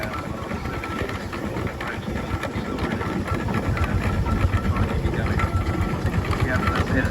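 A scale model steam ploughing engine chuffs steadily at an old-time rally showground, its rapid, even mechanical beat loud and continuous with speech over it throughout.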